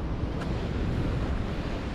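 Ocean waves surge against the sheer rock cliffs at Broken Beach on Nusa Penida, a continuous low roar heard from high above with heavy wind buffeting the microphone.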